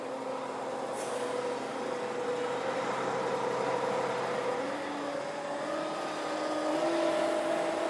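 A truck engine given a little throttle before its outriggers are deployed, a steady low rumble that rises gently in pitch and stays even in loudness, with no talking.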